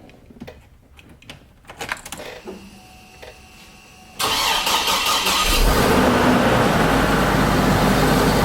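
A 2007 Hummer H3 with a freshly installed 4L60e transmission starts up: a few quiet clicks and rustles, then the engine abruptly catches and settles into a loud, steady, close-up idle roar.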